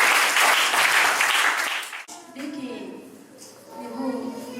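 A church congregation at a prophetic worship service claps loudly and continuously for about two seconds, then the applause cuts off and a voice carries on over a quieter background.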